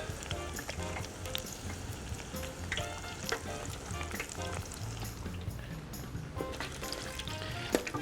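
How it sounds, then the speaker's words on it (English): Vegetable fritters in batter crackle and bubble in hot oil, a steady dense sizzle running the whole time with occasional louder pops, close and fairly loud, no voices. "we're going to leave these in the batter until they crisp up and go a nice golden brown"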